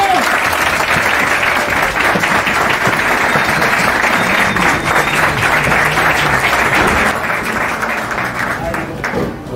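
Dense, sustained applause from a live studio audience fills the room at loud volume, steady throughout with a few cheers, welcoming a comedian onto the stage of a Turkish talk show.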